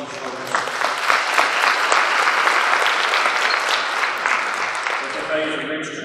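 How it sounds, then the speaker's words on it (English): A banquet crowd at an FFA chapter event gives a sustained round of applause for former members, dense and steady from start to finish, with a few voices faintly mixed in. "Round of applause for these folks."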